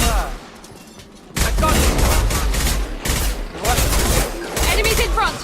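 Enemy gunfire in Mass Effect 2 erupts suddenly after a quiet moment, loud dense bursts of shots crackling in waves, with voices speaking amid the fight.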